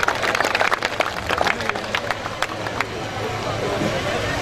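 Audience applause at a neza bazi (tent pegging) festival in Kharian, Gujrat, as a crowd claps in a scattered, uneven patter over a murmur of voices, thinning toward the end.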